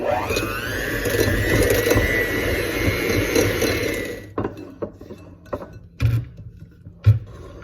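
An electric mixer whirs steadily through wet cookie ingredients with homemade vanilla extract for candy corn cookies, running loud and close for about four seconds, then cutting off and leaving a few scattered clinks and bumps of bowl and utensils.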